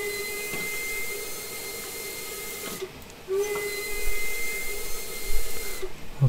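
A vintage steam locomotive whistle in Train Sim World sounds as a steady, sustained hiss-like tone, with a brief break around the middle and a low steam rush beneath it.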